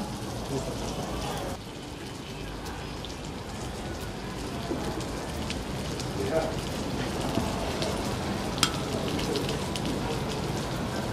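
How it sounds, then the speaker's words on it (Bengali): Sizzling beef hisses on a hot platter in a Chinese restaurant, a steady close, rain-like crackle lasting throughout, with faint voices murmuring in the background. "সিজলিং বিফ সিজলিং 350 টাকা না?"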